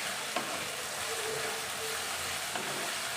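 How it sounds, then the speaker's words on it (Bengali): Chopped onions frying in a pan, a faint, even sizzle that continues steadily, with a couple of soft clinks from stirring. "এবার সমস্ত কিছুটা ভালো করে ভেজে নিতে হবে"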